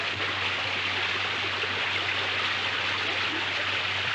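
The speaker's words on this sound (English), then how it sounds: "streams of water pour down the valley, thrusting huge rocks and boulders before them" Meltwater streams pour down a mountain valley, pushing rocks and boulders along, a dense, steady rushing roar of water heard at moderate distance, unbroken and without voices, with a faint low hum underneath.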